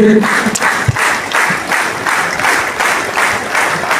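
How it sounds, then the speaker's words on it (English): Audience applause for the ladies comes as loud, pulsing rounds of clapping in a roughly regular rhythm, with some crowd noise mixed in and no clear speech over it. "Let us all give a big round of applause for all our ladies."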